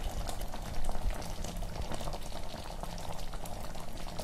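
Milk and rice-flour dumplings for paal kozhukattai boil hard in a pot, a steady, close, rolling bubble that runs unbroken throughout with no voices.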